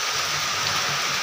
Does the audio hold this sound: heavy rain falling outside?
yes